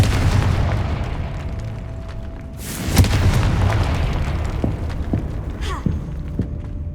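A Confringo fire spell from Hogwarts Legacy lands in a single loud, sharp blast about three seconds in, rising out of steady game ambience, with a few smaller pops and crackles following it.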